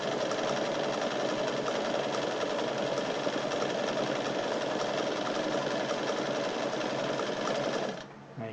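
A Bernina 817 sewing machine stitches steadily, a fast, even mechanical whir held at a constant level for about eight seconds before stopping abruptly, close and without talk.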